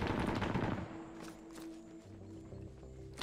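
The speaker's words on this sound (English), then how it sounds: "That 50's firing right over our heads." A .50 caliber machine gun hammers overhead in Arma 3, set in a Vietnam War scenario, a dense loud burst up front that cuts off, then a steady tone and scattered distant shots.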